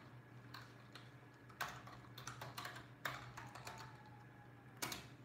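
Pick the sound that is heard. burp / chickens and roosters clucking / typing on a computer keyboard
typing on a computer keyboard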